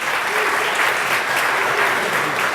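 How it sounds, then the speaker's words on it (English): Steady audience applause at a startup pitch event, dense and sustained throughout with many hands clapping at once, loud and close with no pauses. "Okay, big round of applause for Helen and Paul."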